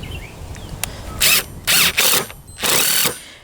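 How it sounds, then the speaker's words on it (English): A power drill whirs in four short bursts, biting and grinding into wood at a 45-degree angle while making a carpenter bee trap, with brief pauses between runs and faint clicks before the first. "You're going to drill this going at a 45-degree angle going towards your top"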